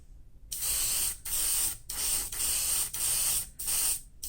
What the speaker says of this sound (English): we're going to spray some clear red over the orange here